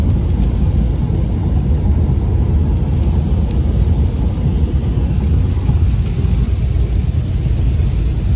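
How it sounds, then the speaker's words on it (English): Deep, continuous thunder rumbles at a steady loud level for several seconds with a broad low roar and no speech. "Thunder boomers."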